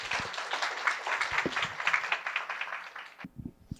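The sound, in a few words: audience applause welcoming a speaker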